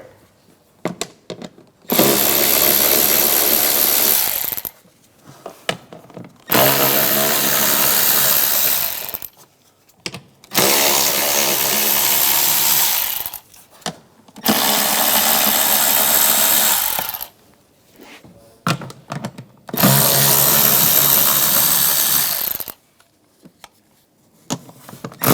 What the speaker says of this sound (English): We're going to remove this cover, use an 8mm socket,